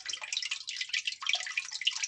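Aquarium water runs out through a small sieve in a light, close trickle of splashing and dripping that goes on without a break.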